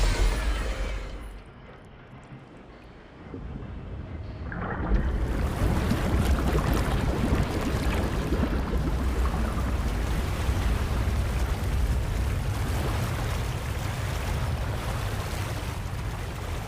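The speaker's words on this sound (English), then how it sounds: "The water level is rising!" Water surges and rises in a Fontaine quest area of Genshin Impact, a quiet lull giving way to a loud, sustained rushing wash that roars on steadily without speech.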